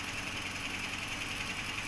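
A morcellator machine unit runs in forward, giving a steady, close mechanical whir with a faint high-pitched whine and light vibration, constant and unbroken for the full stretch.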